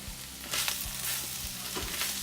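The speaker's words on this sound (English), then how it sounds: "you can put the onions and the red pepper in there" Onions and red pepper sizzle and fry in a pan for Filipino menudo, a steady soft hiss with faint stirring clinks, close and low in level, no talking.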